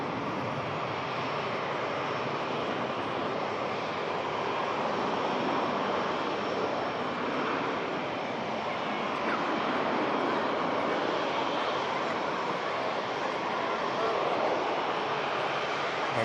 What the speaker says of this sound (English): Air France rotates